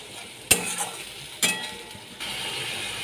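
Mustard, green chili and garlic paste with salt and turmeric stir-fried in a pan for a Bhola fish curry, with two sharp scraping clinks of a utensil against the pan and a steady low sizzle building toward the end.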